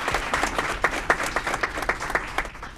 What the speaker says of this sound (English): Let's give him a round of applause for his service to the community.